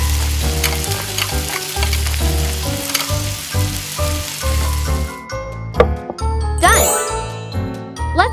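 Mini fried squid in tomato sauce with tomatoes, carrots, green onions and grilled shrimp meatballs is stirred in a tiny pan, giving a steady sizzle with bright clinks and tinkles of utensils. Sharper, sparser taps come near the end.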